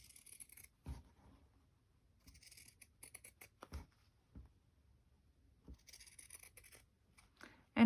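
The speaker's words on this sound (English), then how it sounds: "I'm going to go around it with my pinking shears." Pinking shears snip around the edge of a journal page in a quiet room, making a few sparse, crisp cutting crunches separated by pauses, close and fairly faint.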